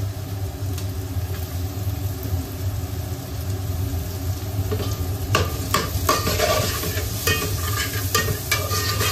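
Capsicum and cabbage stir-fried for veg noodles make a continuous close sizzle, with scraping, clattering stirs that grow busier and louder in the second half.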